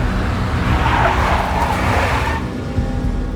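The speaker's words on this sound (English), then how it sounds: "A big black Mercedes." A big black Mercedes tails the player in the video game Max Payne, with a loud, close, steady engine roar and tire noise that eases slightly near the end.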